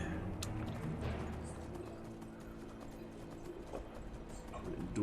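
Hooves of a dwarven horse in Skyrim clip-clopping at a gallop, a steady rapid beat with clanking mechanical overtones, close and moderately loud over a soft game backdrop.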